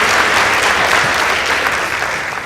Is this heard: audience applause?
yes